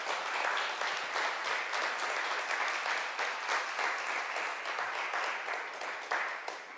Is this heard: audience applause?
yes